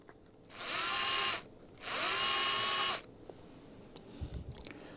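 Power drill boring into a Smith & Wesson front sight, two loud close whining bursts of about a second each separated by a short pause, followed by faint handling clicks.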